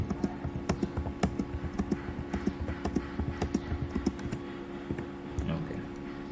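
Numbers are typed on a computer keyboard as input, a quick, close sequence of light key clicks in an uneven rhythm over a low steady hum, with no voices.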